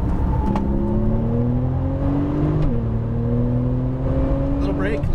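A Porsche 911 Turbo engine pulls hard under acceleration with a steady, loud rising drone and a brief dip as the driver lifts, while a voice talks over it.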